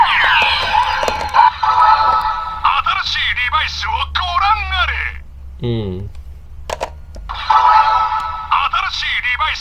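Electronic sound effects and chimes from a DX Barid Rex Vistamp, a Kamen Rider Revice toy stamp, ring out loudly in bursts with short pauses. A brief voice murmur is heard between them.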